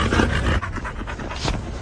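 A dog panting in quick, rhythmic breaths while its tail is grabbed and pulled back, close and fairly loud with no talk over it.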